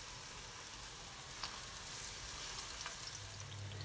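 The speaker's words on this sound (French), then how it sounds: "Maintenant, je mets les aubergines à cuire et à dorer." Aubergines frying in oil heated to 170 degrees, a steady faint sizzle and crackle with a few small pops, no voices.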